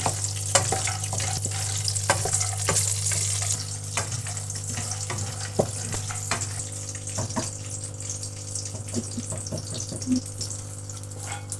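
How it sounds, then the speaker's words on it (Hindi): Almonds fry lightly in a pan for a traditional Pakistani semolina and milk halwa, giving a steady close sizzle with scattered scraping stirs and clicks over a constant low hum, no voices. "हल्का सा फ्राई करना है हमने बादाम को"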